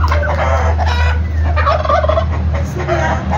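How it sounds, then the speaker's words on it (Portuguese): A guineafowl calls loudly and close by on a rural farm, giving harsh, rapid, repeated cackling notes without pause. "Aquele é Guiné, Laude"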